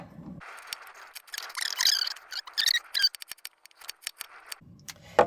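Fresh ginger being peeled, close-up irregular scraping and crisp rasping strokes in quick bursts, with brief pauses between them and no talk.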